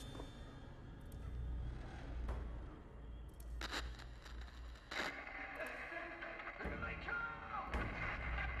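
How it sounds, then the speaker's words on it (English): Gunfire and screaming play from an in-game radio in Call of Duty: World at War Zombies on the Shi No Numa map, faint crackly bursts of shots scattered over a muffled, distorted background with voice-like noise mixed in. "when activated, you will hear gunshots and screaming"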